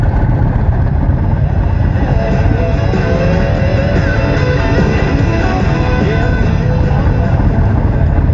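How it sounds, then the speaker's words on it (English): A 2019 Indian Chieftain Dark Horse motorcycle with a 116 cam kit and stage 2 exhaust runs steadily, a loud, continuous close-up engine rumble that holds an even level throughout with no talking. "this is a 2019 Chieftain with the cam 3116 kit. Should be stage 2 exhaust."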